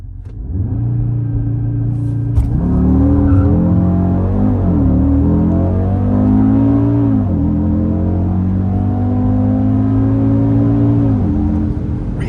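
Audi RS Q3 performance SUV launching hard from a standstill with traction control off, a loud continuous engine roar climbing through revs with brief wheelspin, close and steady with no talk.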